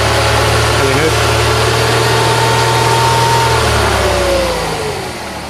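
A 1999 Mercedes-Benz SLK 230 engine idles steadily and close, a smooth, even hum with faint voice tones over it, fading slightly at the end.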